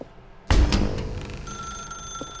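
A telephone rings in The Stanley Parable video game, a loud bright ring starting abruptly and then sustaining a steady tone that slowly fades, with no voices over it.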